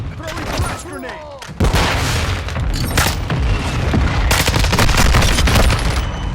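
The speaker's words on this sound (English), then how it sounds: "Throwing flash grenade." In a Call of Duty match a flash grenade bursts with a sudden loud boom, followed by sustained rapid gunfire and distant pops, with game voices and a nearby commentator speaking over the action.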